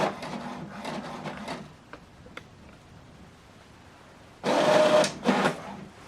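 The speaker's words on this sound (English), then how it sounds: "So this document now is printing." An HP Deskjet 2820e printer runs a print job, with short bursts of mechanical whirring and rubbing feed noise separated by quieter gaps and small clicks, then a louder burst of printing near the end.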